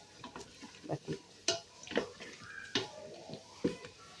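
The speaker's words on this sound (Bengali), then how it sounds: "আর একটু 1 মিনিটের মতো মাংসটা কষিয়ে নিব" Beef being stirred and braised in a pressure cooker pot in a village kitchen, a spoon scraping and knocking against the metal in irregular close strokes with faint sizzling underneath.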